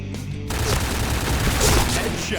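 Sustained HK416 rifle fire in the shooting game Point Blank, a loud, dense burst of rapid automatic shots rolling continuously and close up for the whole stretch, with no talk over it.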